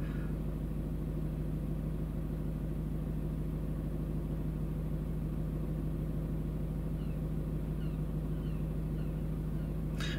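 A Ford car engine idles steadily, a low continuous hum with a faint rumble that holds even throughout, with a brief higher click near the end.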